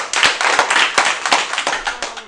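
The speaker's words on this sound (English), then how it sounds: "give him a round of applause" An audience at a day of how-to demonstrations breaks into applause, a dense, loud patter of many hands clapping together with no talk.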